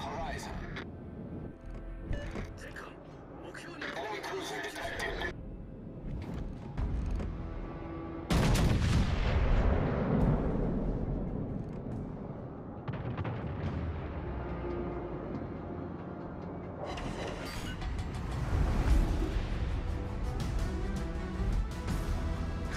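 Warship artillery in World of Warships Legends, featuring the Kansas, fires in heavy booming salvos with rumbling explosions, loud and repeated across the scene, mixed with game radio chatter.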